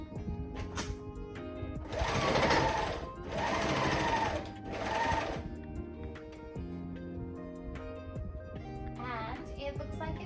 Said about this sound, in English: it looks like it's all sewing very nicely